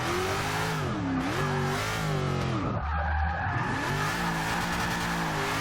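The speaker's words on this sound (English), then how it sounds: "I don't know why this car's sliding so much." Tires of a slammed, stanced Ford Mustang GT500 skid and slide in the Forza 6 racing game, with a loud continuous squeal and the engine droning and shifting pitch underneath, nearly unbroken throughout.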